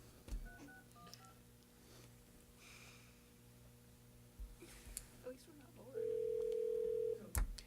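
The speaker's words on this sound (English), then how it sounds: "The ringback tones." Telephone dialing on a call, a few quiet touch-tone beeps followed by a long steady ringback tone, faint and close, with low room noise and brief clicks around it.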